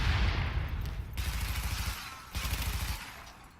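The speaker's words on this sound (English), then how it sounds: "we are going to make use of our sticky grenade here again" A sticky grenade explodes in the video game The Division with a loud rumbling blast, followed by a second burst and rolling debris noise in a continuous, gritty roar.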